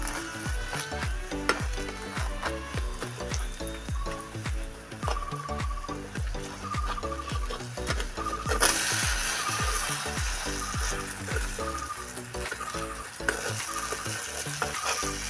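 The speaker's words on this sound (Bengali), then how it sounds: "নাস্তাটা আমি আরও ভালো করে একটু ভেজে নিই" A crisp vegetable snack fries in oil, a dense steady sizzle with rapid repeated stirring and clicking that runs throughout, growing brighter partway through, with no voices.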